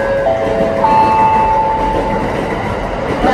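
A Keikyu train rumbles through Yokohama station, with a loud steady rolling roar and thin high tones from wheels or brakes, alone and without speech.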